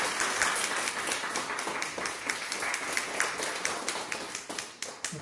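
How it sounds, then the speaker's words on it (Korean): A church congregation applauds during a Sunday service, a dense burst of many hands clapping steadily for about five seconds and fading slightly at the end, with no talk over it. "박수."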